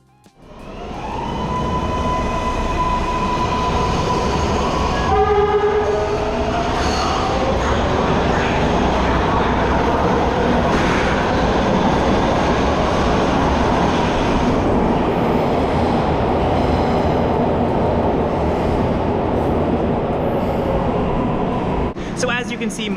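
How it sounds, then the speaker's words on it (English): A MARTA metro train departs the lower level of Five Points Station in Atlanta, a steady loud rumble of rolling cars and wheel noise filling the platform throughout, with brief tonal whines near the start. "we come to a stop at the station's lower level and watch our train depart"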